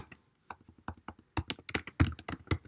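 Typing on a computer keyboard while programming, with sparse individual keystrokes at first that build into quicker, louder bursts of clacking, close and with no voices.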